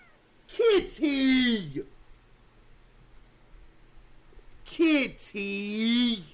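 A cat gives two drawn-out, whiny meows with a quiet pause between them, close and clear against faint background hiss.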